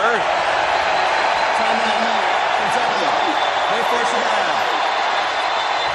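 Loud, steady stadium crowd roar at a Georgia versus Kentucky football game in Lexington, a dense unbroken wash of cheering with a voice speaking over it.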